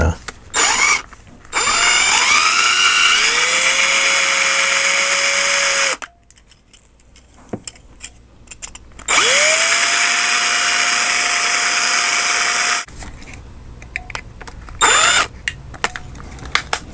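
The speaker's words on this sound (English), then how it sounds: "let me drill these out" Small drill boring out the wheels of a model Ferrari F40 toy car, two long loud high-pitched whining runs with a rising pitch as it spins up, separated by quiet pauses and short blips.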